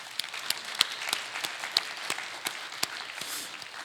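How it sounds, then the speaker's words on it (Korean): A church congregation claps to welcome missionaries during a Sunday service, a fairly quiet patter of separate sharp claps with a few louder hits, sparse and uneven rather than a full roar. "우리 마음을 담은 박수로 환영하면 좋겠습니다."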